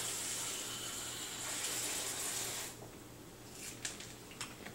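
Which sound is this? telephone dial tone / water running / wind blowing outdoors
water running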